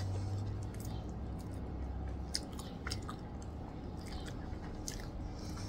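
Someone eating bread, with soft, steady chewing and small crunchy bites close to the mic over a low background hum, and no talking.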